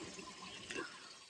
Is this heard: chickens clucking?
no